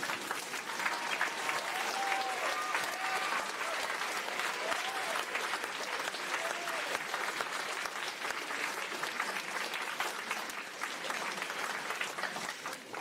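A standing audience at a Class of 2026 celebration breakfast gives a sustained round of applause for a departing principal, dense steady clapping filling the room with a few faint voices mixed in.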